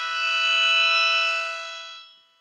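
A person's voice imitates a siren, a bright sustained wail that swells and then slides away as if passing by with a Doppler shift, heard alone and close.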